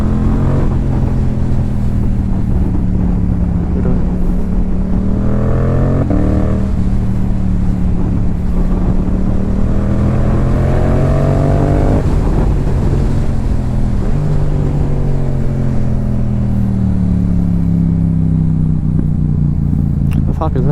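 A Yamaha R7 motorcycle riding along a road, its engine note loud and close as it climbs and falls through gear changes, with heavy wind rush over the microphone throughout.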